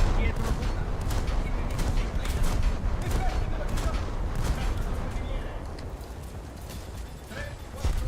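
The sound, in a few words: ship guns firing in naval video game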